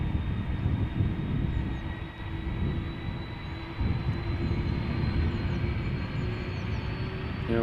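A Delta Airlines jet, Flight 47 to New York JFK, rumbles steadily at Amsterdam Schiphol Airport with a continuous broad engine roar and a faint high whine, moderately distant and unbroken.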